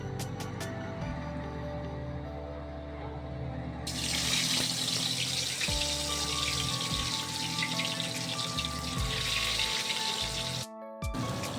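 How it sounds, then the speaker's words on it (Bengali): Gurjaoli fish pieces dropped one by one into hot oil in a kadai, a loud, steady crackling sizzle that bursts brighter as the fish goes in and continues close up, with a brief dropout near the end. "তেলটা গরম হয়ে গেছে, এবারে আমি একে একে মাছ দিয়ে দেবো"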